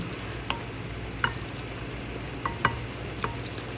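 Menudo frying in oil in a pan, a steady close sizzle with several sharp scraping and tapping hits of a spoon stirring through it at irregular intervals.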